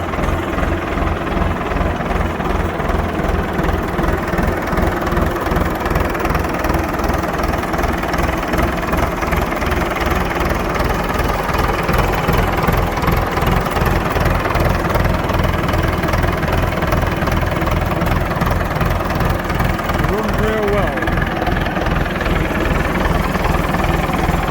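A Standard Fordson tractor converted to a Perkins 4.270 diesel runs steadily at idle, a loud, close, even low-pitched chug with a fast regular knock and no talk.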